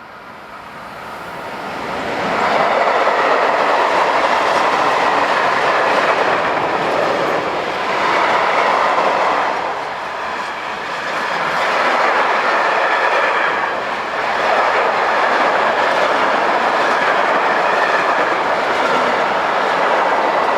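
Class 1216 electric locomotive, number 1216-146, hauling a train through Mixnitz station in Austria, passing close by as a loud, steady rumble with rising and falling wheel and rail noise that stays heavy throughout.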